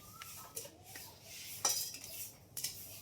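Food being dry-roasted in a pan in a home kitchen, quiet scraping and clinking of a utensil against the pan in a few separate strokes over faint background, with no one talking.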